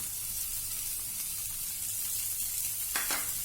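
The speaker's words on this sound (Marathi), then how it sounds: "कांदा 1 मिनिटभर परतून झालेला आहे" Chopped onion sizzling in a pan while making a bread omelette, a steady close frying hiss with a brief clink of a utensil near the end.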